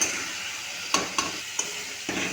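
Vegetables and spice paste of salt, turmeric, cumin-coriander powder, ginger paste and a splash of water fry in a pan for papaya fish curry, with a steady close hiss broken by a few sharp scraping stir strokes.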